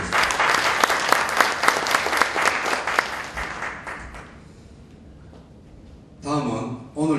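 Audience applauds at an extraordinary general meeting of a Korean federation of trade and business associations, steady dense clapping for about four seconds that fades away, followed near the end by a voice.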